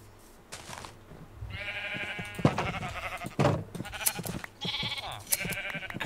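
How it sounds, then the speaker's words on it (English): Sheep in Minecraft bleat repeatedly in short, nasal, wavering calls that overlap and come in several bursts, close and fairly loud, mixed with light clicks and game sounds. "Let's see how the sheep are doing."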